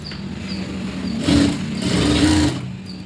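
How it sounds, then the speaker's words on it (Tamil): A sewing machine stitching a blouse: a close, humming mechanical whir that starts, runs in two short bursts of stitching and stops, over a quiet room. "இப்போ அந்த பக்கமும் இன்னொரு பக்கமும் அதே மாதிரி ஸ்டிச் போட்டு எடுத்துடலாம்."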